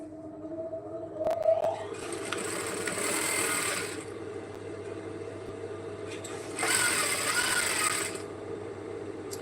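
A sewing machine stitches a seam on a simple A-line dress, running in two sustained bursts of steady whirring separated by a quieter pause, close and moderately loud over a low background hum.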